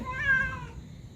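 A single cat gives one clear, drawn-out meow lasting under a second, close up and fairly loud, asking to be fed fish, with no talk over it.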